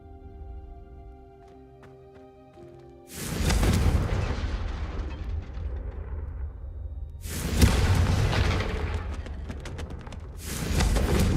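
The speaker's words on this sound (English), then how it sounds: "a Confringo cast travels a bit farther than that of a spell like Incendio" In Hogwarts Legacy, the Confringo fire spell is cast several times, each one a sudden loud fiery whoosh and blast that decays slowly, over a quiet background.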